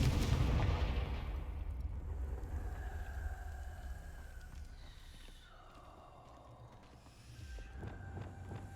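A Confringo blast spell cast in the Hogwarts Legacy video game bursts loudly at the start, a heavy booming impact that rumbles and fades into a lingering low roar and crackle over several seconds.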